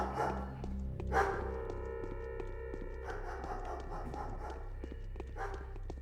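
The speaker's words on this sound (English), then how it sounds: "There are dogs in this game." A dog pants and barks in the game Pathologic, faint snuffling breaths and a couple of short barks over a low, droning ambient music bed, with no speech.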